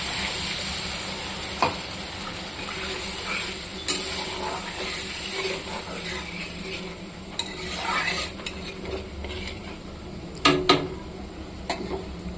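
Fish curry masala simmering in a pan after water has been added, a soft steady bubbling with a few sharp clinks and taps of a spoon against the pan, close and with no talk.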